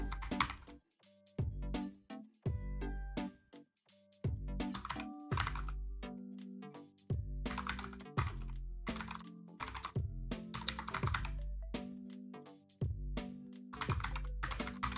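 Fingers type on a computer keyboard while someone codes a C++ game, with dense, irregular bursts of close key clacks that run steadily and pause briefly between runs.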